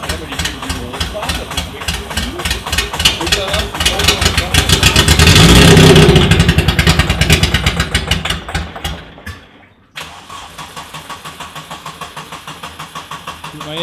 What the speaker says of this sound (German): dass das Auto mit so viel Öl absolut nicht läuft